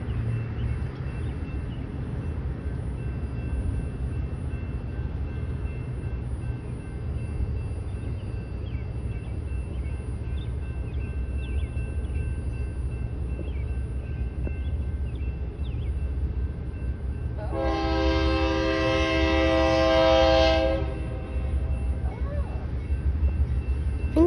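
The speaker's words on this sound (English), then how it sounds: "Special train." A DODX special train hauling a nuclear waste flask as a high and wide load rumbles steadily past in Granite City, Illinois, then sounds one loud, sustained horn blast lasting about three seconds.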